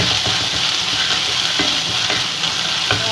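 Chicken vindaloo masala with vinegar fries and is stirred in a pan, giving a loud, continuous close sizzle with faint occasional stirring scrapes and no voices.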